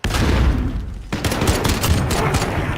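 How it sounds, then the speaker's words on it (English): A grenade explosion in a monster-hunting fan game set among offices, heard as a dense, loud burst of booming blasts and rapid gunfire-like crackle, briefly cut off and then continuing in a rolling volley. "Throwing grenade!"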